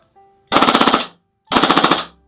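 Two short full-auto bursts of rapid, snappy gunfire from a G&G SMC-9 gas blowback airsoft SMG, each around ten shots, close and loud with a pause between.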